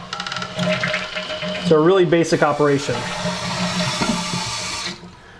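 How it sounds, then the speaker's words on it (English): A toilet flushes as its handle lifts the flapper, a loud rush of water that swirls and gurgles for several seconds and then tapers off, with someone talking over the start. "So you can see it flush like this."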